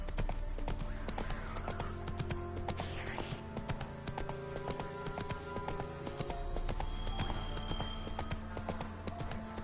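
The horse Roach gallops in The Witcher 3, a rapid, steady clip-clop of hooves running close and loud throughout, over a low droning rumble.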